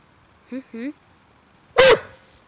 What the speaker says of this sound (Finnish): Joo, ja sä haukut. Hauku vielä kerran! Mikkiin.